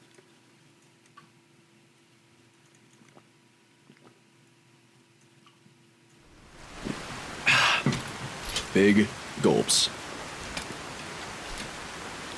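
Steady rain falls in Skyrim as a soft, hissing wash that starts partway through and continues to the end, while a voice talks over it.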